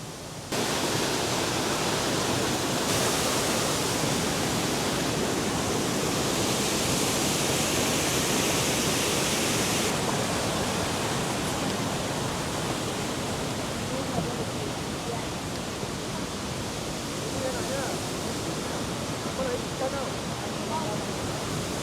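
A loud, steady rush of falling water fills the whole stretch, broad and unbroken, close to a waterfall in Cat Cat village, Vietnam.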